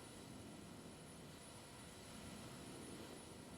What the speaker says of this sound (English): I don't think I've ever heard the plane.